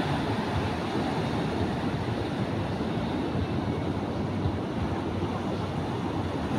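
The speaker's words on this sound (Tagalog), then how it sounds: "Mahampas na yung malaking alon." Large waves on the Casiguran coast roll in with a steady, low rushing roar of surf, continuous and fairly distant, with no voices over it.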